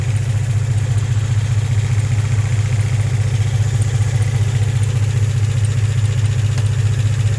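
A 2003 Infiniti G35 with a misfire and camshaft codes idles at about 612 rpm, giving a close, constant low engine rumble with an even, unbroken rhythm.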